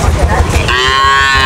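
A cow at the Banani cattle market in Bogura gives a single loud, close moo that starts rough and settles into a sustained tonal bellow lasting over a second.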